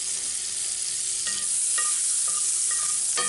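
Butter sizzling and frying in hot, lightly smoking olive oil in a pan before shrimp go in: a steady close hiss with brief crackling pops, no talking.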